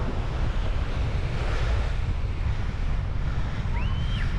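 Sea waves roll onto a Caribbean beach with sargassum on the shore at Playa Mamitas, a continuous surf wash mixed with heavy wind buffeting on the microphone.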